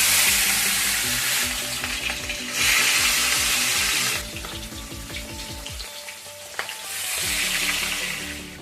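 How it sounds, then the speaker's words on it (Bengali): Katla fish pieces sizzle and spit loudly in hot oil in a wok, a steady crackling fry that swells and eases, with occasional stirring and clinks and no talking. "এবার আমি মাছগুলো ভেজে ফেলবো। এবার কড়াইয়ের মাছগুলো ছাড়ছি।"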